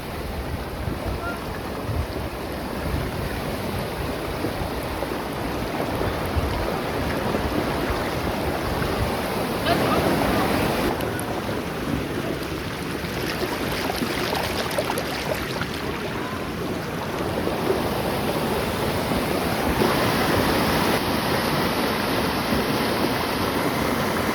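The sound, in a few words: floodwater rushing with waves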